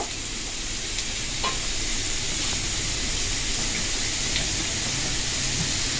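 Carrot and cauliflower pieces fry in oil while being stirred, producing a continuous dense hiss of sizzling with faint scattered clicks from the spoon.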